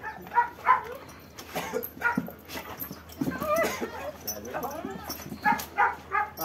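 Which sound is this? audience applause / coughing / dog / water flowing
dog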